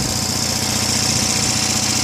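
A small Onan 5CCK generator engine runs steadily at close range, a low throbbing idle with a buzzy exhaust note from its small exhaust and no talking.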